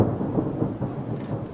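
Low, heavy thunder rumbles continuously in a deep, rolling wash, steady and fairly loud with no voices.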